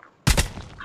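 A single loud, close gunshot from PUBG Mobile cracks out of near silence and trails off into a short ringing decay.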